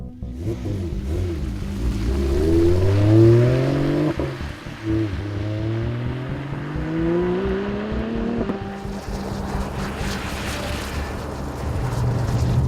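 A Volvo S60 Polestar saloon with a transversely mounted 500-horsepower V6 and manual gearbox accelerating hard on a snowy road, loud rising engine note climbing through gears with brief drops at shifts, then fading into the distance.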